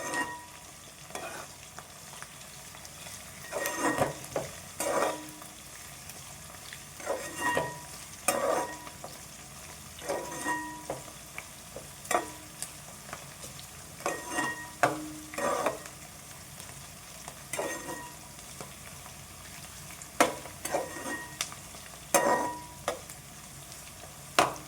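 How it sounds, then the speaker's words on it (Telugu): Crushed garlic and onions fry in a pan in a village-style kitchen, a low continuous sizzle broken by repeated scraping stirs of a utensil against the pan at irregular intervals, with no talking. "ఇప్పుడు వీటన్నింటినీ మనం బాగా ఫ్రై చేసుకుందాం."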